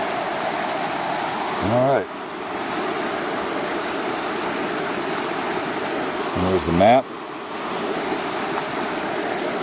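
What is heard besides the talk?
Temperance River flowing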